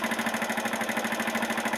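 A Honda Varadero 125 motorcycle engine, warmed up for about ten minutes and suspected of bearing trouble, runs with a loud, fast, even knocking beat that stays steady and close throughout.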